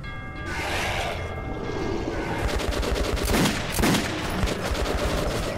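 Gunfire in Metro 2033, loud close shots and rattling bursts crackling over a continuous roar of action, with sharp impacts clustered near the middle and end.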